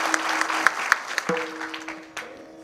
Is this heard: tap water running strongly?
no